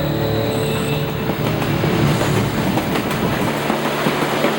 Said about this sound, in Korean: 이후 국내행 열차에 몸을 실었는데요